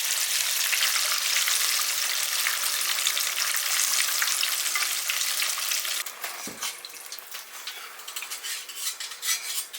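Catfish pieces deep fry in oil with a loud, dense, continuous crackling sizzle. About two-thirds of the way through, a utensil knocks and scrapes briefly as the pieces are moved around.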